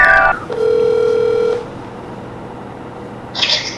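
A telephone sounds for an incoming call with a steady held electronic tone for about a second, then a quieter stretch and a brighter buzzy burst near the end, with no voices.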